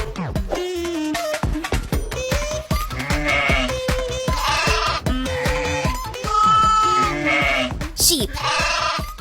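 Sheep bleating, with repeated wavering calls in a noisy, busy mix alongside other animal-like voices and clattering sounds.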